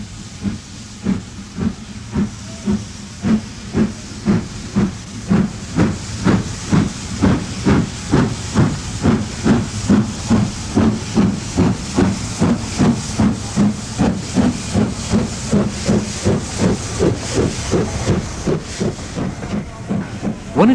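Steam locomotive working a heritage passenger line near Loughborough, giving loud rhythmic chuffs and hissing exhaust beats that quicken steadily as the engine pulls away, over a continuous steam hiss.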